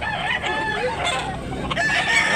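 A fighting cock at a cockfighting venue in Tabunok, Cebu, crows loudly and close by, a single strained call that breaks into clucks, with no talk.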